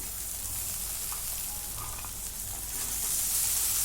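Green chilies fry in a pan with a steady, close hissing sizzle that holds evenly throughout, growing slightly brighter near the end, with no talking.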